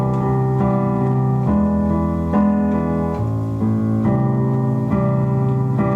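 Piano or keyboard playing the first variation of the chord progression from a song, a smooth sequence of sustained chords changing every second or so with moving bass notes, close and steady with no voices.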